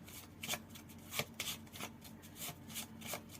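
Tarot cards are shuffled and drawn by hand, producing a quiet, close series of rhythmic riffling and sliding bursts with no voices.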